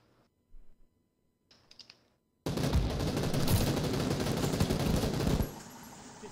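Rapid automatic gunfire rattles loudly and continuously for about three seconds in the PUBG battle royale game, after a few faint, sparse clicks and before dropping to quiet.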